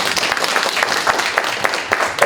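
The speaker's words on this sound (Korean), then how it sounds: "이쯤에서 박수 한번 나오셔야 됩니다" Audience clapping at an ESG economic forum, brisk, dense applause with distinct individual claps popping out, loud and close, no speech over it.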